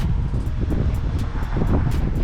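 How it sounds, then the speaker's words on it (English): Steady wind buffeting the microphone, a continuous low rumble with gusty swells throughout and no speech. "It's windy, guys."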